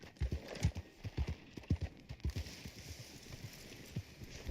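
Horse hooves clip-clop at a steady trot while riding in Red Dead Online, a run of distinct thuds close by, with a soft whinny-like sound partway through.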